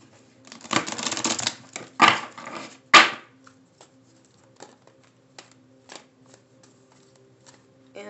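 Tarot cards being shuffled in a few quick riffling bursts up close, followed by scattered soft taps and flicks of handling.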